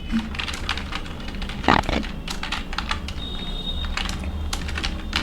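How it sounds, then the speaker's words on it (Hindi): Fingers typing a website name on a computer keyboard, a quick steady run of close clicking keystrokes with one louder clunk partway, over a low room hum. "मैं पहले यहाँ पे वेबसाइट का नाम टाइप कर देता हूँ"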